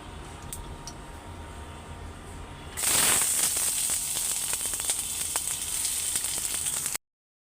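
Curry of onions and green chilies hits a hot pan with a sudden loud sizzle that then holds as a steady, close frying hiss with small crackles.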